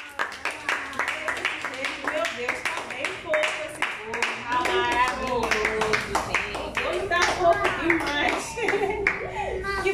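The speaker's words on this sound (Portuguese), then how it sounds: "Para menina Nice, muita salva de palmas." Guests at a family birthday party clap their hands in a steady rhythm, with voices singing and talking over the close, brisk claps throughout.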